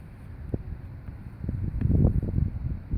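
Gusty wind buffets the microphone outdoors, a low rumbling roar that swells louder toward the end, with no voices.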